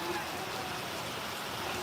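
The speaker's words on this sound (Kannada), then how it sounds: "ಮುಂಜಾನಿಂದ ಮಳೆ ಚಾಲು ಐತಿ" Steady rain patters and hisses continuously, a dense wash of falling water without any other distinct sounds.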